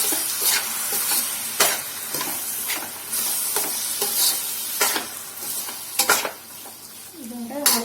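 Chopped tomatoes sizzle in a pan of sautéed onions for a spicy Indian-style vegetarian cheese pasta. A steady close fry runs throughout, broken by repeated spoon strokes that scrape and clatter against the pan.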